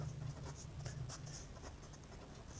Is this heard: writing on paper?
yes